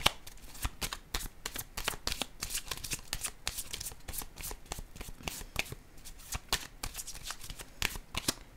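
A deck of tarot cards being shuffled close up, with rapid continuous riffling and flicking of cards for several seconds and no talking.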